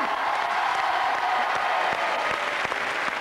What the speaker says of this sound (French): quelques applaudissements pour les Wallace